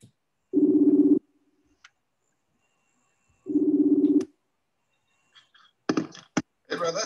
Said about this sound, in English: You hear that ringing?